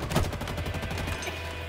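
Rapid automatic fire from an assault rifle in Halo Infinite, a steady rattling burst of closely spaced shots that trails off into a lingering ring, loud and close with no talk over it.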